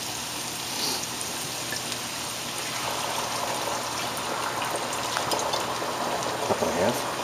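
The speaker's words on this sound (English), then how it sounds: "Add about a cup of wine" Wine poured into a hot pan of mussels gives a steady close hiss and sizzle with light crackling that swells toward the end, no talk.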